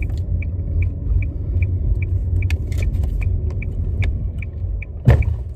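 A car rolls over a potholed road with a steady low rumble inside the cabin, a regular light ticking throughout and one heavy jolt near the end, with no talking.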